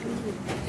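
Homing pigeons, snow-white youngsters in a loft, give a brief soft coo, close and low-pitched, lasting under a second with no voices over it.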